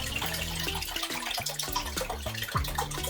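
Water pours steadily into a measuring container, one litre for homemade laundry detergent, a continuous splashing stream under soft background music.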